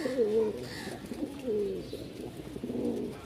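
Pigeons of a prized Rajshahi high-flying breed coo in a loft, with repeated throaty calls in slow phrases close by and a little faint talk mixed in.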